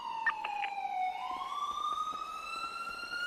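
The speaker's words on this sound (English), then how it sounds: "Turn off the sirens, man." A police car siren in the video game GTA wails steadily, rising and falling in a clear electronic tone, moderately faint and alone without talk.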